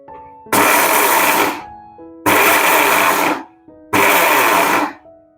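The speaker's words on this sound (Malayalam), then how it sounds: "ഒരു രണ്ട് മൂന്ന് പ്രാവശ്യം കറക്കുമ്പോഴേക്കും നമ്മുടെ അരി പാകത്തിന് പൊടിഞ്ഞിട്ടുണ്ടാവും" A kitchen mixer grinder grinds raw rice into powder in three short loud bursts of roaring whir, each about a second and a half long. Brief pauses with a faint hum separate the bursts.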